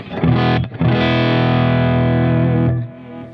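A gritty chord on an Ibanez GIO GRX70 electric guitar rings out, briefly cut, then struck again and held with crunchy amp overdrive before it stops.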